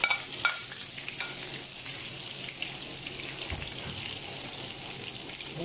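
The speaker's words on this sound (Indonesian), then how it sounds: "Magigisa lang muna tayo ng bawang at sibuyas." Garlic and onion sautéing in hot oil give a steady close hiss and sizzle with light stirring and scraping throughout, no voices.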